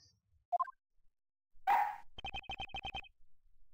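A dog in the Ace Attorney Investigations: Miles Edgeworth video game gives one sharp bark, then a quick run of about eight clipped, evenly spaced yaps, loud and close with no one talking over it.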